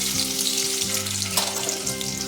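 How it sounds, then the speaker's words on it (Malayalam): Crushed garlic and ginger sizzle steadily in hot oil for a chicken roast, a dense continuous frying hiss close to the pan with no voices. "ഇനി അതിലേക്ക് വെളുത്തുള്ളിയും അതുപോലെ തന്നെ ഇഞ്ചിയും ചതച്ചത് ഇട്ട് കൊടുക്കുകയാണ്."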